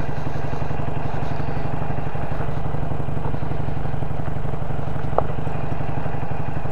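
Harley-Davidson Iron 883 motorcycle with upgraded shocks riding along, a steady loud low engine rumble with a regular firing pulse throughout, close up and continuous, with no talking.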